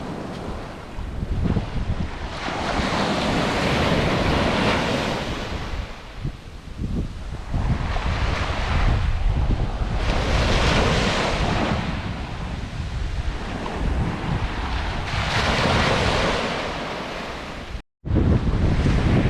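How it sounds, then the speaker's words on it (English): Ocean surf rolls in as repeated waves crash and wash onto the shore in long broad swells, with wind buffeting the microphone throughout and a brief dropout near the end. "Listen to the ocean."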